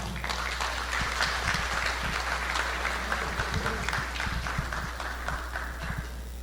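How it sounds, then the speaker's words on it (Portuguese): An audience applauds to welcome a speaker to the stage, with dense, steady clapping that stays loud and fairly close for several seconds and has no speech over it. "Vamos receber com uma salva de palmas Rosana Rosário."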